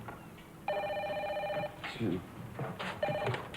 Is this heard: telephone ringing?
yes